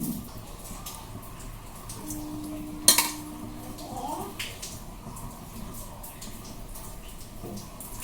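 Fish being washed in a bowl of water, with sloshing and clinking of a metal vessel, one sharp knock partway through, and low household noise underneath.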